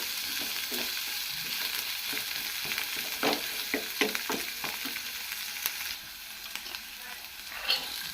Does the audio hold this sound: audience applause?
no